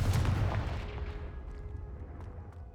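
A fiery Confringo spell cast in the video game Hogwarts Legacy bursts out as a loud, close blast that tapers into a rumbling, crackling fade with no talking.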